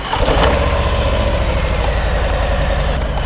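A 2021 Harley-Davidson Low Rider S motorcycle idles while warming up, giving a steady, loud, close engine rumble that holds evenly throughout with no speech.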